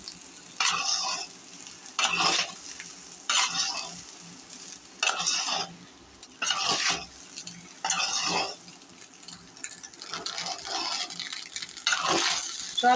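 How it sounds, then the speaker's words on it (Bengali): Rice being stir-fried with soy sauce in a pan gives a soft sizzle broken by regular bursts of scraping as a spatula turns it, about ten strokes in a steady rhythm with no talk. "এখন নাড়াচাড়া দিবে, একটু পরে হয়ে যাবে।"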